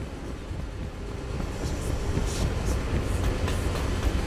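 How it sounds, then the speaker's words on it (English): A steam boat engine starting up in the Dishonored: The Brigmore Witches video game, heard as a steady, loud low rumble and churning that builds slightly over a few seconds, with no one talking. "Fire up the engine from the bridge."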